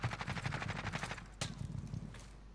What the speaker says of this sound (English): Shot him a few times.